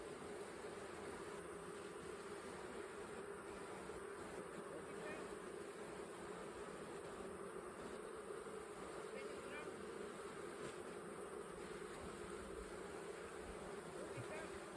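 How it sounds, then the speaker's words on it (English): A dense swarm of bees drones continuously at close range, a steady low buzzing hum that never lets up. "There are lots of bees."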